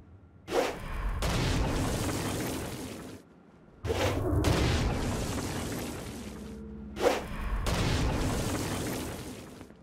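Heavy Stone Blast explosions in the video game Saints Row: Gat Out of Hell, three booming bursts each followed by a long rumbling roar, loud and close.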